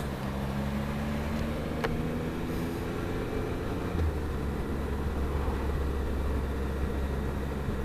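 A car with an automatic gearbox pulls away from traffic lights and shifts up, its steady engine drone and road rumble continuous and close, with a brief step in pitch partway through as the gear changes.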